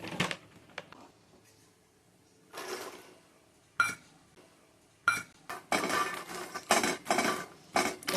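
Makhana lotus seeds are roasted in a pan, giving scattered rattles, light clinks and scraping bursts as they are stirred. The noises come in short irregular clusters separated by quiet gaps.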